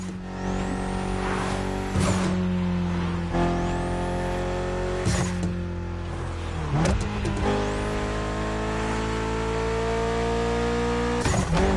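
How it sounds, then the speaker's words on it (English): Mitsubishi inline four-cylinder, 280 horsepower, in The Crew Motorfest, revving loudly through repeated rising gear pulls with brief tire squeals, alone and close throughout. "Mitsubishi gave us a nice inline four-cylinder with already 280 horsepower."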